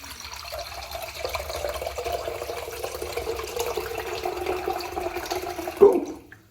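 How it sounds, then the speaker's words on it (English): Water pours steadily into a pot for several seconds, a continuous splashing stream that ends with a brief clunk. "Come on, add 1 liter of water."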